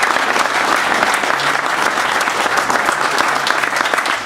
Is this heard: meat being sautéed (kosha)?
no